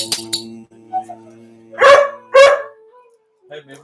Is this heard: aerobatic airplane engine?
no